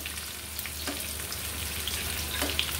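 Dried red chilies sizzle in hot oil with browned onion and garlic, a steady close frying hiss filling the whole stretch with a few soft stirring scrapes.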